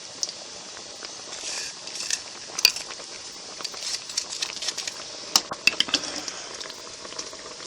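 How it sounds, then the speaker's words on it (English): A spatula scrapes sugar out of a measuring cup during pineapple jam making, producing faint gritty scratches and light clinks in short irregular bursts over a quiet background. "I have to get my spatula and scrape the sugar out since I used my same measuring cup."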